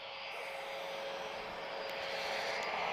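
An airplane at Lisbon Airport gives a steady, distant roar with a faint whine, growing slightly louder over a few seconds and heard alone.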